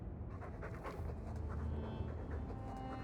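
A dog in the Dragon Age II video game pants in quick, steady breaths, close but faint, with low background game ambience and no speech.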